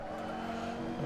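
A race car in the Assetto Corsa racing game brakes hard into a corner, its engine droning steadily with tires squealing, close and continuous.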